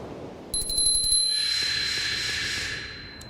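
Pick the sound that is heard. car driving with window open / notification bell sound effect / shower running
notification bell sound effect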